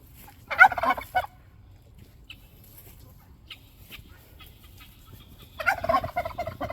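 Chickens in a backyard pen gobble and cluck in two loud bursts, one near the start and one near the end, with a quiet stretch of faint rustling and distant bird chirps between.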